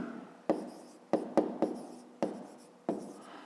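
A pen or chalk writes numbers by hand in a maths lesson, giving six sharp taps at uneven intervals, each followed by a short scratchy stroke, close and clear against a quiet room.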